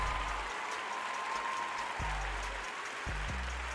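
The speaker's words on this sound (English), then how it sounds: "The crowd is loud." Stadium crowd at an Alabama vs Texas college football game roaring and applauding, a continuous broad wash of noise at a moderate level with low rumbling thumps.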